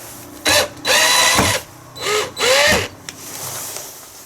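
Power drill driving long screws while fitting a Wayfarer TGX200 in a B10 project, four loud bursts of motor whine of varying length with brief pauses between, close up over quiet room noise.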